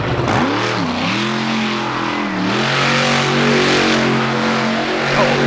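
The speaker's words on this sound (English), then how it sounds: "Starting off strong with a great donut in the Avenger truck" The Avenger monster truck, driven by freestyle champion Jim Koehler at the Fall 4-Wheel Jamboree Nationals in Indianapolis, roars loudly while spinning a donut, its engine note dipping and surging through repeated revs.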